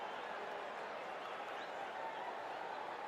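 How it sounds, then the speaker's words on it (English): A large stadium crowd at Wembley applauds steadily during a pre-match tribute at an England versus Germany football match, producing a dense, continuous wash of clapping and crowd noise with no pauses. "A round of applause rings around Wembley"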